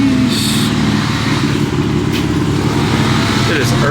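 A BMW M4 idles and rolls slowly into a driveway, its engine a steady, close, low rumble with a faint higher whine over it.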